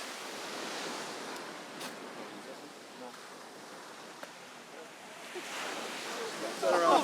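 Choppy ocean water sloshes and splashes continuously around a swimmer during an open water swim, a close, broadband wash with gusty wind noise.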